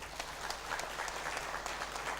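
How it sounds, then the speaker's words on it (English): A steady round of applause fills a conference hall at the 42nd annual CATA technical conference for the host nation Nigeria, with many hands clapping evenly at moderate distance and no break. "Please join me, ladies and gentlemen, in giving a big round of applause to our host"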